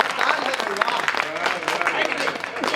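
Brief burst of audience applause at a Hindi poetry recital, a dense patter of clapping from a crowd lasting a few seconds, moderately loud and close.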